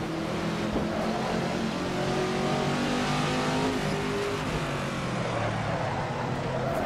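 The V8 engine of the Veloce GTS-8 mod car in Assetto Corsa, racing at Zandvoort, gives a loud, continuous revving roar with shifting pitch that stays close throughout.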